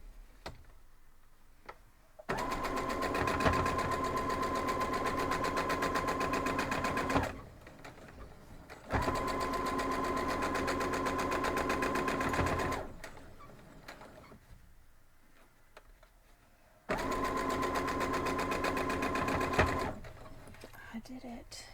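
Sewing machine stitching fabric in three long steady runs, a loud close mechanical whir with ticking, separated by quiet pauses with faint handling sounds.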